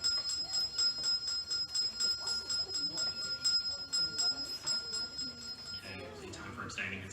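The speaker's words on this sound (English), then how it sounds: "Ring the bells." Division bells ringing continuously in a parliamentary chamber during a youth parliament vote, a bright, sustained electric ringing that persists for several seconds under people talking, then cuts off near the end.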